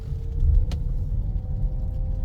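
A car engine rumbles low and steady while pulling out past parked cars, close and continuous, with a short sharp click near the start and a faint whine running under it.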